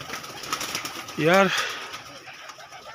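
A pigeon coos once in a soft, rising-falling burble over a voice talking, with faint outdoor background.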